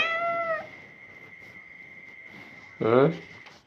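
A pet cat meows twice nearby, a short plaintive meow at the start and a louder, rising one near the end, with a steady faint whine in the background between them.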